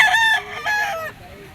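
A bullstag rooster, straight-combed and yellow-legged, crows loudly and close at a gamefowl auction market in Lipa, one strong cock-a-doodle-doo call ending in a trailing note.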